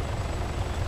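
Helicopter in ARMA 3, a continuous dense rotor and engine roar, loud and steady over a very short moment.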